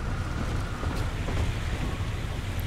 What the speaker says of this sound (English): It is raining under the sea.